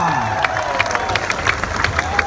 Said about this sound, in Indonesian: Beri tepuk tangan untuk Ibu Nesri Mustafa